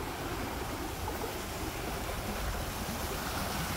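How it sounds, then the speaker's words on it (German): A brook near building sites in Alanya that runs down from the mountains to the sea gives a steady, broadband rush of flowing water. It is close and constant, with no talk. "Hier ist nämlich ein Bach."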